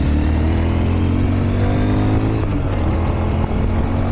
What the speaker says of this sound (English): Right here I just go through all the gears, sending the Grom down this road.